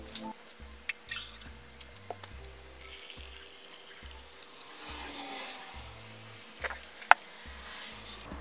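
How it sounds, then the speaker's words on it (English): Filtered water is poured over coffee grounds for cold brew, giving a quiet, continuous trickle with scattered drips and a few sharper taps. "I like to pour it over the coffee and get a little bit more flavor out of it."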